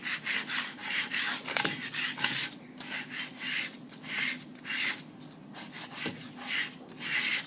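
A tool scraping leftover clay off a wooden board, a rhythmic series of rough, gritty strokes repeating steadily at close range with no talking.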